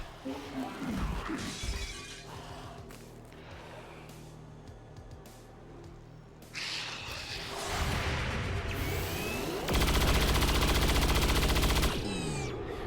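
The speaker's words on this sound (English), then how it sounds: "Overwatch shots are hilarious." Overwatch gunfire in the turn-based strategy game XCOM 2, a dense stretch of loud shots, shattering impacts and automatic bursts layered over game effects.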